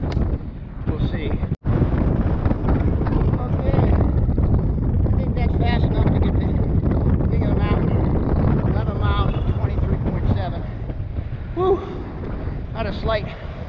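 Heavy headwind buffets the microphone while riding a Bacchetta CA2 recumbent bike, a loud continuous low roar throughout, with a sharp brief dropout early on and a voice talking underneath at points.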